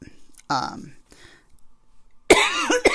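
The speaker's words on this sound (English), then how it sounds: "I still got that cough hanging on" A person coughs several times in harsh, close bursts separated by short pauses.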